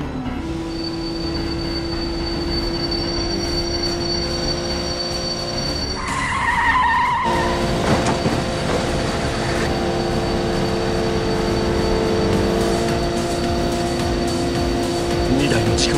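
A car in BeamNG racing downhill on the Hakone Turnpike with failed brakes, giving a loud, steady engine and road roar, with a sharp tire skid squeal partway through and rumbling continuing afterward.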